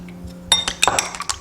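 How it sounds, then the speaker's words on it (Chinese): An egg being beaten in a bowl for a soup, with rapid, close clinks of the utensil against the bowl's side that start after a quiet moment and keep up an uneven rhythm. "碗中打入1个鸡蛋搅散"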